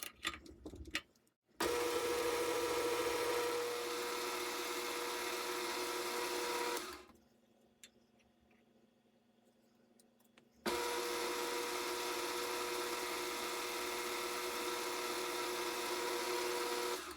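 A lathe turns down the rim of a rimmed rifle cartridge case for 11mm Mauser, giving a steady whirring machine drone in two long runs separated by a quiet pause.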